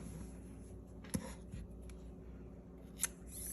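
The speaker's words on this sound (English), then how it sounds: "let me grab some scissors and snip my yarn" Two crisp snips of scissors cutting yarn a couple of seconds apart, close up, over quiet background hiss.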